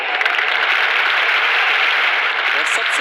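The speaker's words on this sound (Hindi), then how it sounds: "प्लीज जोरदार तालियों के साथ स्वागत कीजिए डॉक्टर अब्राहम ली का।" Loud, dense applause from a large audience greets a speaker at a business gathering, a steady roar of many hands with voices mixed in underneath.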